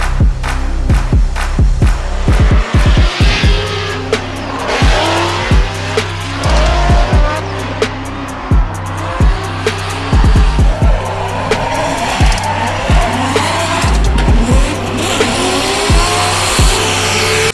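A 2JZ-powered BMW E46 Formula Drift Pro Spec car drifts at a hot, humid Worldwide Technology Raceway, its engine roaring and tires squealing in long continuous howls, with a crowd faintly audible.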